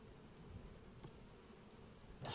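Honey bees hum softly around an opened beehive, a faint, steady buzzing drone with a brief louder rustle near the end and no speech.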